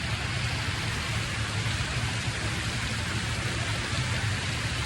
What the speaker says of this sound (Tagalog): Matindi rin tong ulan na to.